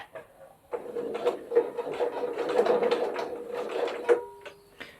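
A sewing machine stitches a zipper pouch, starting mid-seam and reversing back: a steady whirring run of rapid mechanical clatter with a couple of brief pauses and knocks.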